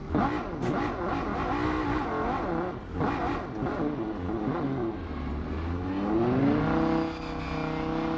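A race car engine in the Rennsport racing game revs up after start in the cockpit, a loud steady tone with rising pitch sweeps, then a climbing rev and settling idle hum, alone without talk.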